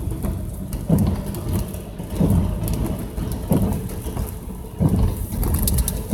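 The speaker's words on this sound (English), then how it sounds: "I don't know if you can hear the rain in the background, but it's raining kind of hard." Heavy rain falling outside, a steady wash of dense patter behind a near room, with periodic low rumbling swells every second or so.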